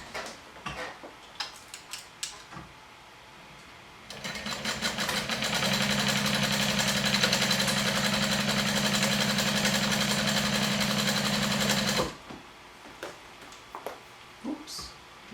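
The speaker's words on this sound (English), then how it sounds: "now I'm going to speed through a top stitch on both sides with an 1/8 of an inch seam allowance from the edge" Sewing machine top stitching a seam an eighth of an inch from the edge during final garment assembly: a steady, fast mechanical whir runs for about eight seconds, with scattered clicks and handling noises before and after.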